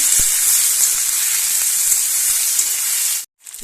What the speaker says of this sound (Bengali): রসুন আদা কাঁচা লঙ্কা কিছু সময় একটু নাড়াচাড়া করে নেব